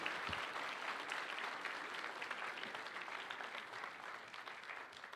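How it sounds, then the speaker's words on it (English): An audience at an anti-counterfeit day event applauds, dense sustained clapping from a large crowd, fairly distant and steady for several seconds. "let's just all stand and give them a big round of applause"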